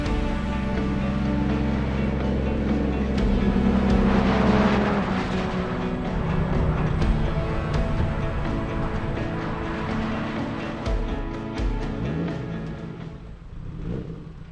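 A 1935 nine-horsepower car drives along with a rattly, buzzing engine note that swells as it accelerates, then settles into a rough, uneven running sound scattered with clicks and knocks.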